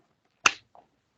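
A single sharp hand clap struck close by to sync sound, a crisp burst that dies away quickly, followed by a faint small knock a moment later in an otherwise quiet room.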